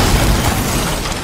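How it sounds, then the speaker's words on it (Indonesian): A gunshot from the action film Fast Charlie, a loud, dense burst that stays broadband and sustained across the whole moment rather than a single clean crack, with no voices. "Blade malah tak sengaja menembak dirinya sendiri sampai koit."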